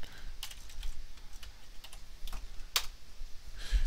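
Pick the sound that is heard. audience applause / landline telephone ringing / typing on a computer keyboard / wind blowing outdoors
typing on a computer keyboard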